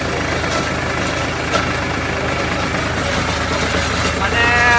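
A tractor engine runs at a steady idle, a constant low rumbling drone close by, with no breaks.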